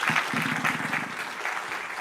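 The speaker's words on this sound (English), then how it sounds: "Round of applause." An audience applauds at a policy discussion event, steady continuous clapping with a voice briefly speaking underneath near the start.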